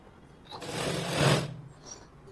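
A sewing machine stitches a blouse lining in a short burst of about a second, a close, brisk whirring run that swells and cuts off, with a soft rustle of fabric before and after.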